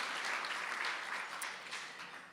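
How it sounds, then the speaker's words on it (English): A gala audience at a cystic fibrosis fundraiser applauds, with a brief burst of dense clapping that is moderately distant and tapers off over about two seconds. "Round of applause."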